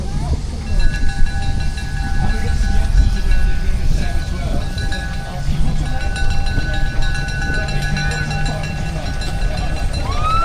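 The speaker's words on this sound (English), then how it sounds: "we've got another couple of steam engines coming" Steam traction engines, including a miniature Foden and a Fowler, roll past at a show with a steady chugging rumble, hissing and brief whistle-like tones, while people talk nearby.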